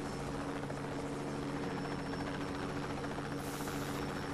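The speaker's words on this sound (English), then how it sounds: "Helicopters? Really?" A helicopter drones on with a steady rotor hum and buzz, constant and moderately distant, with no voices over it.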